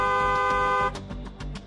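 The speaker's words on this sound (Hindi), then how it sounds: "दूसरों को भी सावधान करने के लिए हॉर्न बजाएं" A car horn blares in one long steady honk, loud and close, then cuts off, leaving road noise and a few short sharp knocks.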